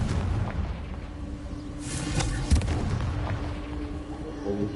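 A Confringo blasting spell detonates in Hogwarts Legacy, with one rumbling explosive boom and a sharp burst midway over a continuous low ambient game background.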